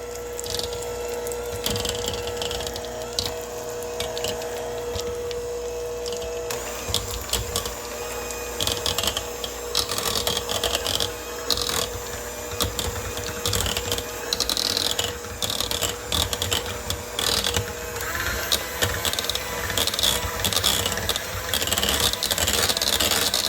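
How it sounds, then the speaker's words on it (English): A handheld electric mixer beats softened box-cake ingredients with vanilla for a cranberry orange cake, giving a continuous close rattling whir with small changes in pitch as the beaters move through the bowl. "I got my hand mixer. I'm going to give those a little mix, get them all combined together."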